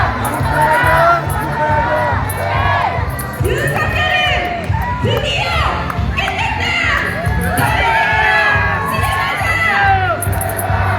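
A large crowd of Daegu citizens gathered on Dongseong-ro cheering and whooping after the Constitutional Court ruling to remove the president, a loud, sustained roar of shouts and scattered screams with no pause.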